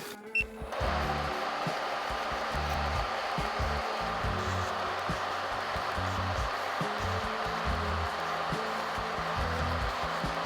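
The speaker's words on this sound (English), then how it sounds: "I'm going to take this fine sanding band and I'm just going to buff the new nail growth" Electric nail drill at its lowest speed buffing new nail growth with a fine sanding band, a steady close whirring hum that starts abruptly and holds evenly, with a faint pulsing grind underneath.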